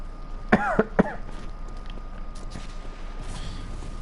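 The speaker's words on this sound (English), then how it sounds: "Like holding in the coughs so much." Two short harsh coughs in quick succession, close and fairly loud, followed by quiet room noise during a Bloodborne gaming session.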